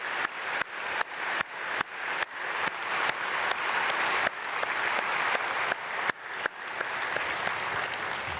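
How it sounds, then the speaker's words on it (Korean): A church congregation at an early-morning prayer service applauds loudly and steadily after a testimony, a full room of clapping that holds for several seconds with slight swells. "우리 크게 박수하겠습니다."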